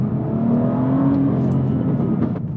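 A BMW M2 with a stage 2 map revs, its engine note rising in a sustained loud rumble with a climbing tone heard from inside the car, then easing off toward the end.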